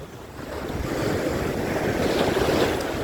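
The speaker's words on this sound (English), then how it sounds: "Splashing, dashing, restless sea." Ocean waves crash and surge at Hollywood Beach in Miami, a loud continuous roar of surf heavy with wind buffeting the microphone, up close and with no talking.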